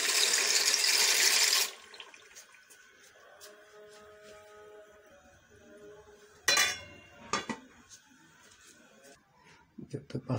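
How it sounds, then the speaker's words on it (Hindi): Dry pasta goes into a pot of hot salted water with a spoon of oil: a brief loud rushing splash, followed by scattered metallic clinks and small knocks against the pot. "अब पास्ता इसमें डाल दें।"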